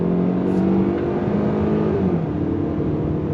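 A 2025 Kia K5 GT-Line sedan with an 8-speed automatic pulling away from a dead stop, heard from inside the cabin as a steady droning engine hum under road rumble, continuous and fairly loud, with no speech.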